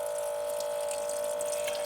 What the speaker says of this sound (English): we're nearly full now. Just a little bit more water.